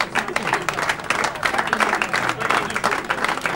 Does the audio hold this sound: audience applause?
yes